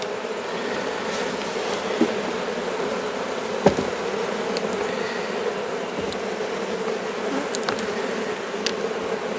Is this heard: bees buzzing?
yes